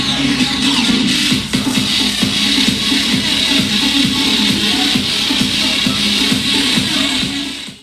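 Music from the Mecool KP2 projector's own speakers at full volume: a loud, dense, unbroken mix with a regular thumping beat underneath that holds steady throughout, then fades at the very end.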